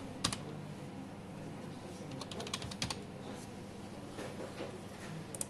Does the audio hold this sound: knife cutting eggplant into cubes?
no